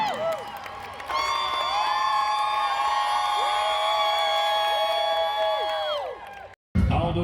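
A Minecraft fan crowd at TwitchCon San Diego 2025 roars with sustained cheering and high, wavering whoops for several seconds, then cuts off abruptly near the end.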